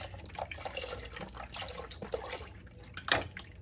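Milk poured in a home kitchen makes a soft, uneven liquid gurgle and splash for a few seconds, close and fairly quiet, ending in a brief louder splash.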